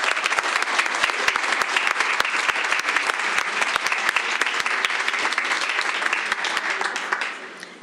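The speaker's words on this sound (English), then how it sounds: "All right, let's give them another round of applause." An audience at a school board meeting gives a sustained round of dense clapping that fills the room evenly, then tapers off at the end.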